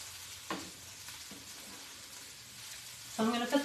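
Kale cooking in a pan for black bean and sweet potato rice bowls, a faint steady sizzle with a couple of soft clicks, then a louder burst of scraping or stirring at the end.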